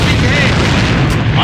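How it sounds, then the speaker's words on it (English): A grenade bursts in the online shooter AVA as a loud, dense boom that fills the whole short stretch, with a voice calling out over it. "Fire in the hole! Grenade!"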